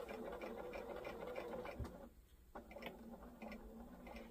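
A sewing machine stitches fabric for a stuffed bunny, a quiet rapid mechanical whirring and ticking that runs steadily, pauses briefly, then resumes, faint and nearby.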